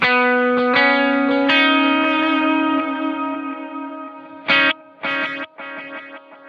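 Electric guitar chords ring out with quarter-note and dotted-eighth delays running in series, repeats stacking and thickening, followed by short bursts of strummed notes echoing into busy, overlapping trails.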